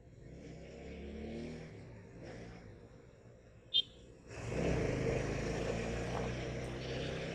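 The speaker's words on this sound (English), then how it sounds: "every morning in Bangalore, you may face some traffic." Morning road traffic in Bangalore, a busy rumble of passing engines with one vehicle growing louder and closer in the second half, a brief sharp horn-like blip between.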